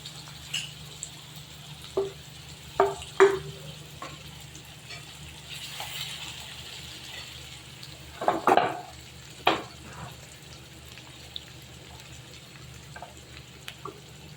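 Onion sautéing in a pan, a faint low sizzle beneath scattered scrapes and taps of a spatula against the pan.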